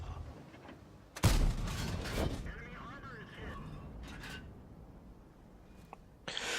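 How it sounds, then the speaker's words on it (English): A tank cannon fires once in World of Tanks, a sharp loud blast followed by a rumbling decay under steady game background noise. "Oh, somebody did fire a shot."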